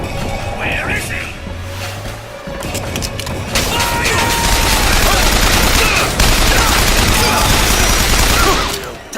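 Heavy gunfire in the Bioshock Infinite video game, with a dense fusillade of sharp cracks and bangs building to a loud, continuous barrage amid game effects and voices.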